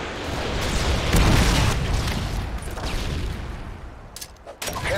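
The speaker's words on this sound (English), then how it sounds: "Friendly Predator missile inbound." A Predator missile strike in Call of Duty Modern Warfare 2 multiplayer erupts as a loud, sustained rumbling blast with crackling debris, heavy and close, fading slightly before sharp pops near the end.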